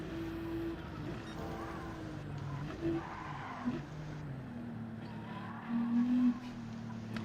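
A race car at full speed in the Gran Turismo 7 video game at Bathurst, its engine droning steadily with pitch shifts and brief squeals, fairly quiet overall with a few louder bursts.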